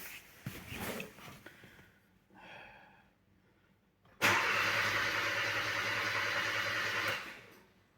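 A car engine cranks during a fuel system check after some quiet handling noises, then catches and runs steadily at a loud, close idle for about three seconds before cutting off.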